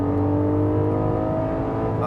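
Porsche 718 GTS 4.0 flat-six on a racetrack, a loud steady engine drone with dense harmonics and no audible gear change across the short stretch.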